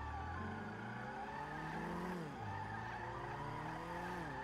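Car tires skid and squeal during a GTA roleplay drive on NoPixel, a steady loud screech with rising and falling tones over engine noise, sustained throughout.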